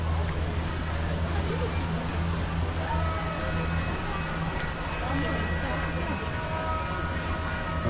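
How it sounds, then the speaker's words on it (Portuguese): A small tourist train rumbles along its elevated track at a campground in Balneário Camboriú, a continuous low mechanical drone that stays steady for the whole stretch. "Esse trenzinho fica rodeando aqui por cima,"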